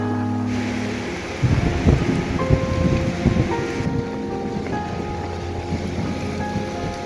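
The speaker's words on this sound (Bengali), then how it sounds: "প্রচণ্ড জোর বৃষ্টি এসে গেছে" Dense, heavy rain roars steadily, spattering loudly on nearby surfaces with a constant rushing hiss and no voices.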